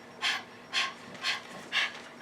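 A voice imitates a panting dog with Kapalabhati-style breathing: four sharp, breathy exhalations in a steady rhythm about half a second apart, close and fairly quiet.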